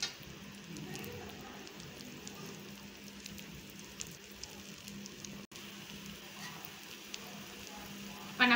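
Oil poured onto a garlic dosa on a hot pan, giving a steady, soft crackling sizzle like light rain that runs throughout, with faint thumps and a brief cut near the middle.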